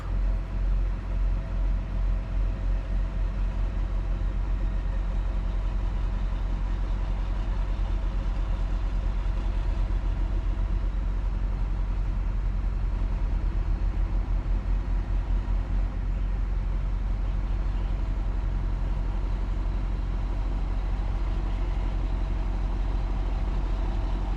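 A truck engine runs at a low, steady rumble throughout while manoeuvring a trailer, close and continuous with no pauses and no talking.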